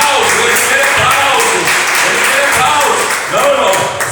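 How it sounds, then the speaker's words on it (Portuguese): Church congregation applauding, steady dense clapping throughout, loud and close, with a voice speaking over it. "Aplausos, eles querem"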